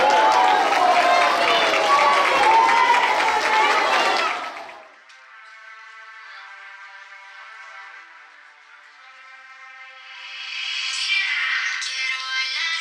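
Audience applause with cheering for a school talent-show dance by four children, a dense loud roar of clapping and voices for several seconds that cuts off as pop music begins, with crowd noise rising again near the end.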